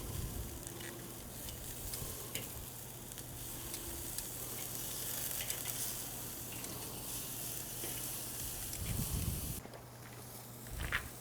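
Pork skewers for Moorish pinchos morunos sizzle steadily on a grill, a dense continuous crackle with a low hum beneath and a few brief handling knocks near the end.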